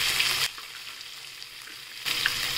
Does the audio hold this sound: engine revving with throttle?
no